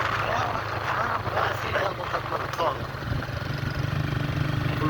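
A vehicle engine runs in a remote mountain village in Gilgit-Baltistan, Pakistan, a steady low rumbling hum under a broad noisy wash, with voices faintly audible around it.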